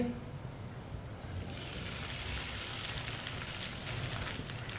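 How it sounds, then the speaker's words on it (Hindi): Cut okra sizzling steadily in hot oil in a pan, a dense, even frying hiss that grows slightly fuller after the okra goes in, continuous and close with no talk over it. "ऑयल को मैंने गरम कर लिया। कटी हुई भिंडी डाल लेंगे"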